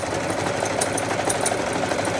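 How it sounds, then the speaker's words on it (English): Home sewing machine running a zigzag stitch along a fabric strap, a close, loud, steady mechanical whir with a rapid needle rhythm throughout. "Now I'm just gonna sew a zigzag stitch on either side of the strap."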